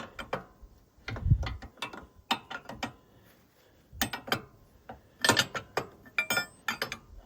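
Metallic clicks and ratcheting of a wrench working on a riding mower deck setup, a dense run of sharp close taps and clinks with brief pauses, a thump near the start.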